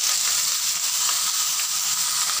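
Cut eggplant goes into hot oil with fried neem leaves, and a loud, dense, continuous sizzle hisses evenly throughout, close by and with no voices.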